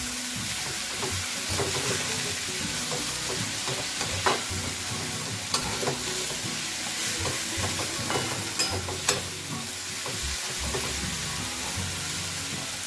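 Spices and tomato fry in a pan for a Bengali Sunday lunch, a continuous close sizzle broken by repeated spatula scrapes and stirring knocks, with no talking.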